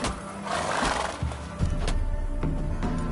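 Roach the horse neighs in the Velen region of a video game, a short whinny joined by hoof clip-clops and low animal rumbles, fairly close and loud with no talk over it.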